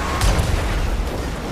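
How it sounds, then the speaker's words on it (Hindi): An explosion goes off behind a car in the video game GTA 5, a loud low boom followed by a rumbling, noisy wash of sound. "पीछे कुछ तो ब्लास्ट हुआ"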